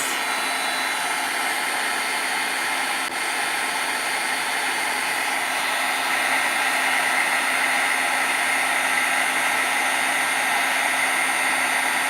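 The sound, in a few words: heat gun heating ink pad colors on craft project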